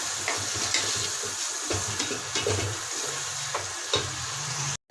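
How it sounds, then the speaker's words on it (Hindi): Green chillies and tomatoes sizzle and are stirred into frying biryani masala for chicken biryani, a steady close hiss broken by scraping strokes of the spoon, cutting off abruptly at the end. "अब इसमें हरी मिर्च और टमाटर भी डाल लेंगे। इसको अच्छे से हिला देंगे।"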